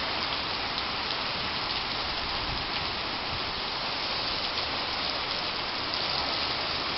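Heavy rain pours steadily during a January storm with some wind in Blumenau, Brazil, a dense continuous hiss of drops drumming on surfaces with no pauses and no voices.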